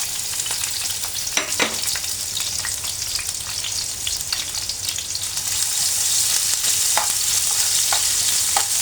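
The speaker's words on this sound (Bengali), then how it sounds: "হালকা করে আমি ভেজে নেব" Chopped onions and green chillies sizzle steadily in hot oil for a noodle dish, a continuous close frying hiss with a few sharper crackles and stirring clinks, growing slightly louder toward the end.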